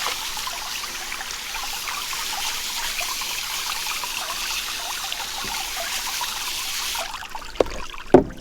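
Running water streams steadily over a rainbow pleated-yoke V-neck tie-dye tee during a rinse, a continuous trickling wash that cuts off near the end, followed by a couple of brief knocks.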